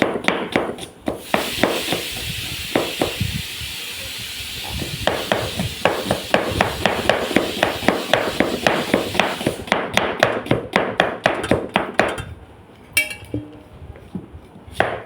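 Fast, steady knife chopping of onions on a board, a long run of crisp rhythmic taps up close that slows and stops near the end.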